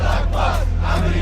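A dense crowd at a funeral procession in Iran for Ayatollah Ali Khamenei, a continuous roar of massed voices chanting and shouting in rising waves with a steady low hum underneath.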